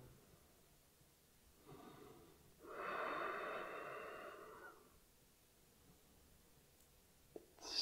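Slow, deep breaths during a yoga stretch for relaxing the body: a soft inhale around two seconds, then a fuller, louder exhale lasting about two seconds, close and quiet with no talking.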